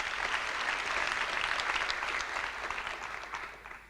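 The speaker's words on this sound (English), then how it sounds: "Can you also give them a good round of applause?" An audience applauds at an athletics gathering honouring South African distance and middle-distance runners, steady dense clapping from many hands that holds for a few seconds and then fades slightly toward the end.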